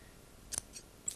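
Scissors snip through ribbons in a quiet room: two quick close cuts, then a third a half-second later, each a crisp metallic clip.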